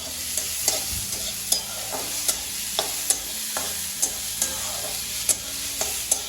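Chopped onions fry in hot oil for a tomato chutney, a steady bright sizzle broken by regular clinks and scrapes of a spoon stirring the pan, close up with no voices.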